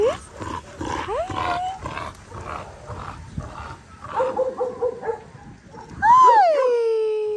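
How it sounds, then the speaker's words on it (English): A young cattle dog gives a few whining, yelping barks amid soft voices, ending with a loud, drawn-out howling bark near the end. "What are we barking about?"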